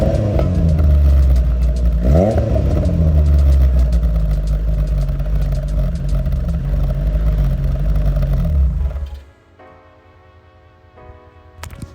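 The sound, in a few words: Toyota AE86 engine revving through exhaust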